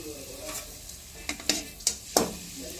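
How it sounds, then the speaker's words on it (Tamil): Asafoetida frying in oil gives a soft sizzle, with a handful of sharp spoon scrapes and taps against the pan coming close together near the end. "பெருங்காயத்தை பொரித்து எடுத்துக்கிட்டு"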